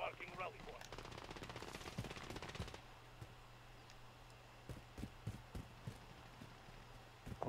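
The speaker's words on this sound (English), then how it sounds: "that sounds like a lot of gunfire" Rapid automatic gunfire rattles in a video game during a night match, a dense burst at the start, then scattered single shots popping at a distance, with a player talking quietly underneath.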